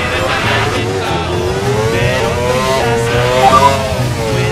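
A V10 Formula 1 car in Assetto Corsa screams under braking, its engine note stepping down through falling pitch sweeps as it downshifts, loud and steady throughout.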